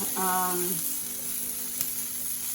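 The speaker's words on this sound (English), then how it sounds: "I'm gonna just go ahead and get my asparagus on my griddle pan." Asparagus trimmed and dressed with olive oil, salt and pepper sizzles on a griddle pan, a steady close frying hiss running throughout with a brief tonal clatter near the start.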